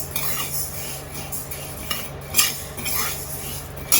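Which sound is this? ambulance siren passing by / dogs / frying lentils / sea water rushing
frying lentils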